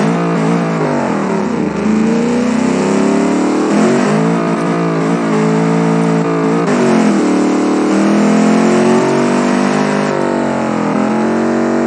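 Loud 1990s track car engine in the BeamNG.drive racing game, roaring continuously with rising and falling revs and repeated gear changes across the whole stretch, close and alone.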